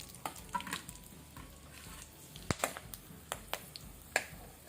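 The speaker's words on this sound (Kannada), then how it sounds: "ಸೊ ಇದೆಲ್ಲ ಸ್ವಲ್ಪ ನಾವು ಫ್ರೈ ಮಾಡ್ಕೊಳ್ಳಿ" Whole spices (cinnamon, bay leaves, star anise, cardamom, cloves, black pepper) frying over a low flame in a pan, with a soft steady sizzle and scattered sharp pops and crackles, fairly quiet and close, no talking.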